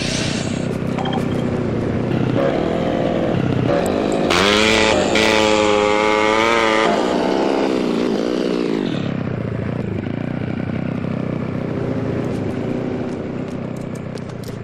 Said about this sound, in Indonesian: Kembali ke motor Ucok.